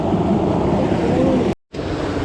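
A mountain forest waterfall roars as a steady broadband rush, loud and close, continuous apart from one brief dropout near the end.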